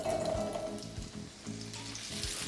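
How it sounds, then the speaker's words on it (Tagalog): Potatoes frying in hot oil give a steady, soft crackling sizzle, close by and fairly quiet, with no talking. "una nating ipiprito itong patatas"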